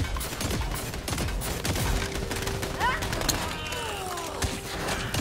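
Gunfire in a fantasy video game, rapid shots and small bursts scattered through the clip over a steady game-sound bed, with some chatter mixed in.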